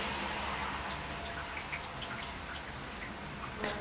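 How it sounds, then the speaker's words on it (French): Rain falls steadily during a storm, a dense continuous patter with scattered sharper drops striking a nearby surface, no voices. "Je commence à attraper la pluie."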